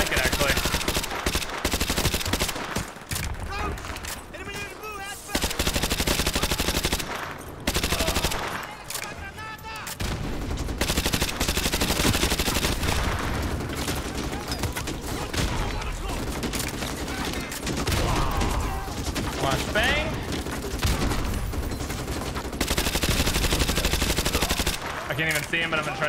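A UMP submachine gun in Call of Duty Modern Warfare 2 Remastered fires in long, dense automatic bursts, loud and continuous with brief pauses between strings, over heavy battle noise and occasional voices.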